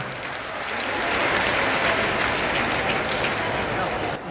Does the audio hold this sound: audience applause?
yes